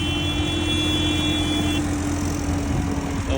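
A steady, loud engine drone with a low rumble and a constant tonal hum from big and small tractors driving nearby in a farming protest in Llandudno, with no talking.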